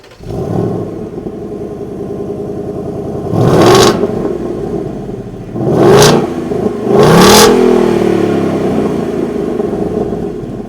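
A 2024 Ford Mustang GT with its 486 hp 5-liter V8 and 6-speed manual idles loudly, then gives three sharp, close throttle blips that rise and fall, the last held a bit longer before settling back to idle.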